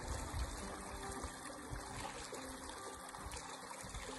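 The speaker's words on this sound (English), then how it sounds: "On this side, the water is moving" Creek water trickling and moving steadily along ice-covered edges beside a dirt road, a continuous soft outdoor flow with low rumble, no talking.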